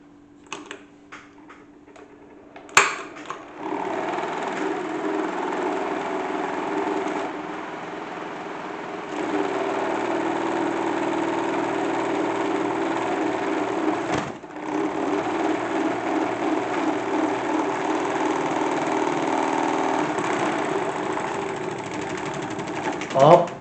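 A salad spinner converted into a small toy washing machine runs steadily with a whirring, rattling mechanical drone, starting after a click and continuing, near and fairly loud, with a brief interruption midway.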